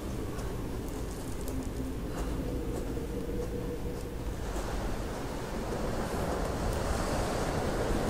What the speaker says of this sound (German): Scheint ganz schön windig zu sein hier.